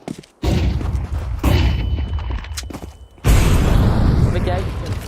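Flashbang grenade going off in Counter-Strike 2, with a sharp loud burst followed by a sustained ringing noise wash, then another heavy blast near the end, amid game noise.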